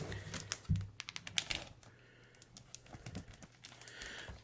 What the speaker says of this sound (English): we can play with them and kind of crinkle the packaging